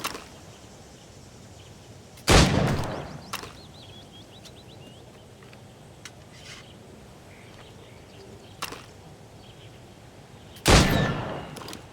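Two loud, sharp gunshots fire at targets in the video game Assassin's Creed Rogue, spaced well apart, with a few fainter clicks and a light ambient hum between them.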